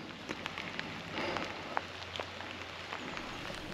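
Rain falls during a cycling trip, a steady soft patter of drops on surfaces with scattered louder individual hits, close by and without talk.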